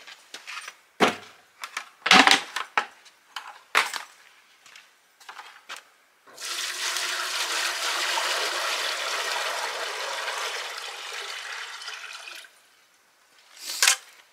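About eight gallons of maple sap poured into steam pans on a 55-gallon drum evaporator during the season's first boil, a steady splashing pour of several seconds, preceded by scattered clanks and knocks and followed by one sharp knock.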